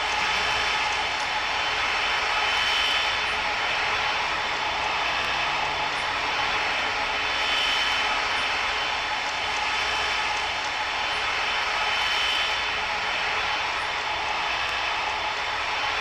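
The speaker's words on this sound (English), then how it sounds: "That is just a massive jet." Boeing 777-300 jet engines in the Tower Simulator 3 airport game give a steady, broad roar that holds at a constant level for the whole stretch, with no voices.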